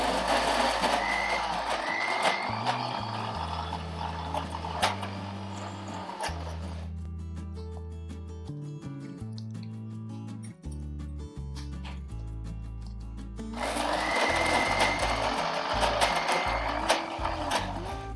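A mixer grinder whirs loudly as it blends curry leaf chutney with salt and cut chili, running in two long bursts with a quieter stretch of tonal, music-like sound between them.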